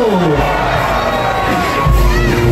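A big festival crowd at the Obando street dance celebration erupts in loud collective shouting and cheering, with high children's yells riding over a dense, continuous roar.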